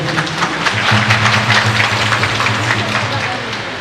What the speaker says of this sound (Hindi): आइए आपकी ताली बजाते हुए हम स्वागत करते हैं।